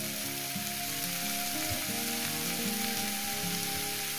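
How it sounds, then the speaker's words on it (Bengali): Vegetables including eggplant frying in a pan for a fish-roe vegetable chorchori: a dense, continuous sizzle that holds at an even level throughout, with a low steady tonal hum underneath and no talking. "এইটা আমি ভালো করে সুন্দর করে ভেজে নেবো। মিনিমাম 5 মিনিট ধরে আমি ভেজে নেবো।"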